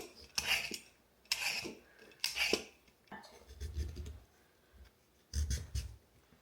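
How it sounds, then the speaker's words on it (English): A knife cuts through raw sweet potatoes with quiet, close crunches and board knocks, about four strokes at an uneven pace, followed by a softer scraping stretch. "I hate cutting sweet taters."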